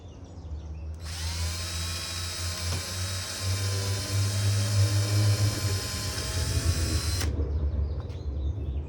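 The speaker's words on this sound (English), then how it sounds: "And drill a couple of holes" A power drill bores a couple of holes straight through a raccoon-damaged window screen frame, a loud steady whine with strong harmonics running about six seconds before cutting off, with low rumble underneath.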